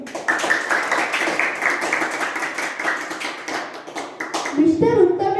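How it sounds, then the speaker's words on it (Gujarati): Crowd applause greets a speaker walking onto the stage at a school play's conference scene. Many hands clap steadily and loudly for several seconds, then voices take over as the clapping dies away. "તાળીઓના ગડગડાટથી તેમનું સ્વાગત કરીશું."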